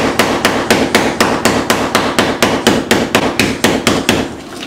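Hammer pounding food on the ground, a clean, evenly spaced train of about twenty sharp whacks, loud and close, with no talking.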